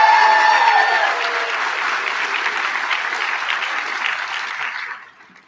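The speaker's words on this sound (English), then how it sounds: "Now you can applaud." Commencement crowd applauds a college executive vice president, a dense, steady wash of clapping from a large gathering that holds for about five seconds, then fades out.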